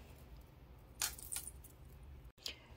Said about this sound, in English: I will be using a 47 inch purse chain instead.